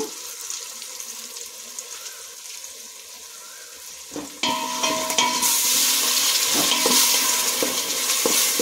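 Tamarind juice and jaggery with salt and turmeric bubbling and frying in a pan for Karnataka girmit, a steady broadband sizzle that jumps louder halfway through as the mixture heats, with faint stirring clinks and no talk.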